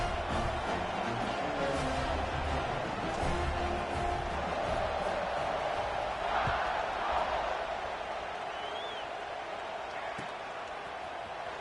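Stadium crowd noise in the College Football 26 video game, a broad, steady roar of many voices at middling loudness that fades slightly toward the end, under faint commentary.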